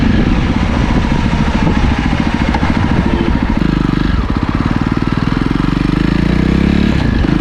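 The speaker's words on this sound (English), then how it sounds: "Pops and cracks at the silencer exhaust sound, and overall nice performance." A Jawa Perak BS6 motorcycle runs loud and close, its engine thumping steadily with rapid rhythmic exhaust pulses and rev changes, pops and crackles from the silencer mixed into the continuous roar.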